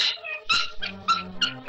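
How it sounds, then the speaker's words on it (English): A dog gives several short whimpering yips and whines in quick succession, close and fairly loud, with brief gaps between the cries. "I'm gonna put the headset down so you can hear this dog"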